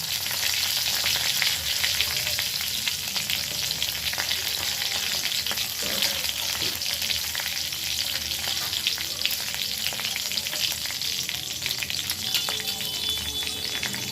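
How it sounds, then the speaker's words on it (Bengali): Cumin seeds, green chili and bay leaf spluttering in hot oil, an intense, steady crackling sizzle close by that holds throughout without pause, no voices. "তেলটা গরম হয়ে গেছে, আমি এবার জিরে ফোড়ন দিয়ে দিলাম আর দিয়ে দিলাম কাঁচা লঙ্কা, তেজপাতা ফোড়ন"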